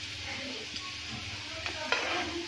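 Ban paratha chicken frying in a pan, a steady crackling sizzle with a few sharp pops and scrapes of stirring, close and continuous, without speech.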